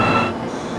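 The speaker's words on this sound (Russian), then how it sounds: "Во, паровоз, смотри." A locomotive passing on a railway in Kazakhstan, heard as a brief, loud, steady rumble of wheels and rolling stock close by, without speech.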